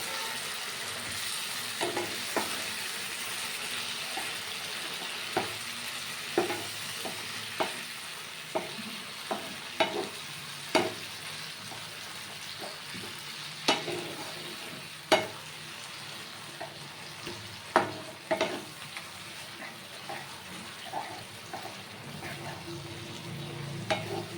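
Fish oil with green chillies frying in a pan, a soft continuous sizzle broken by frequent sharp scrapes and knocks of a spatula stirring, fairly quiet and without talk.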